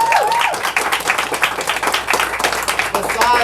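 Audience applause greets a speaker at a Black authors summit, a dense burst of clapping from a sizable crowd lasting throughout, with a voice speaking over it near the start.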